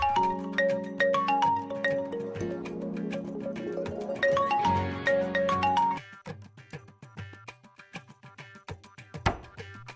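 A mobile phone ringtone plays as a loud melodic electronic tune for about six seconds, then cuts off, leaving quieter clicks and knocks in a room.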